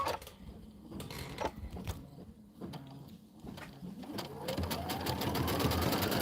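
Embroidery sewing machine quilting a Kimberbell pillow block, starting with scattered clicks and thumps, then a rising whir that builds into a steady, close mechanical stitching hum.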